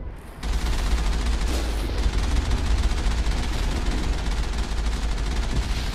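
Rocket launcher fire and explosions in the Mass Effect video game roar as a dense, loud, sustained barrage of gunfire and blasts that starts abruptly and continues without letup.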